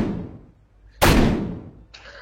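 Gunfire effect played during a tabletop horror role-playing game session, a sudden loud blast that decays over about a second after quieter murmuring, followed by a brief higher-pitched noise.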